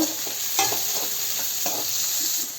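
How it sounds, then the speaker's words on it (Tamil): Shallots, green chillies, garlic and curry leaves sauté in hot oil for a dried-fish curry, a steady bright sizzle with a few soft stirring scrapes close by. "சின்ன வெங்காயம் ரெண்டு பச்சை மிளகாய் கருவேப்பிலை இதை நல்லா வணங்கணும்"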